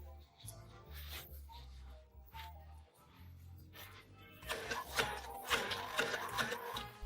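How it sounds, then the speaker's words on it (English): An immersion blender purees artichoke pulp in a bowl: after a stretch of soft low background music, a dense buzzing whir kicks in midway and continues with uneven surges, fairly quiet overall. "with an immersion blender we turn all this into a puree"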